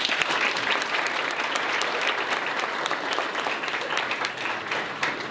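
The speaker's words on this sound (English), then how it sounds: "I get a round of applause for them" Audience applause at an ethics awards ceremony, a steady dense wash of many hands clapping together, fairly loud and continuous throughout with no talking over it.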